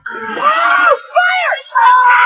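Several people scream in a car as it drives off a rocky path and into the sea, with sustained, wavering cries in three loud bursts separated by short gaps.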